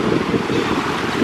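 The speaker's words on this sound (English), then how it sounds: "I'm just enjoying the sound of the water." Sea water washing along the shore at Biloxi, Mississippi, a steady close rushing wash with wind buffeting the microphone, continuous and fairly loud throughout, with no one talking.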